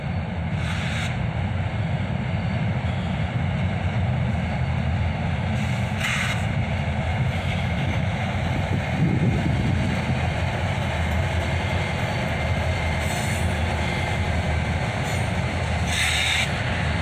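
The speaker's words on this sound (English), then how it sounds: "A pair of SD-43 rebuilds lead this southbound." Southbound CSX freight train led by a pair of SD-43 rebuild locomotives rumbles past steadily and loud throughout, with continuous rail and wagon noise, faint wheel squeal and occasional clickety-clack, no voices.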